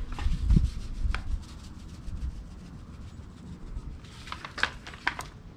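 Pecan dry rub and a second seasoning being patted and rubbed by hand into pork destined for pulled pork: soft, close scuffing and dabbing with a few sharper slaps toward the end.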